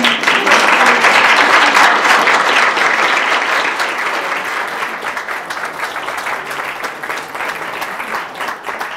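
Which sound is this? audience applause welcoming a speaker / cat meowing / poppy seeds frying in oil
audience applause welcoming a speaker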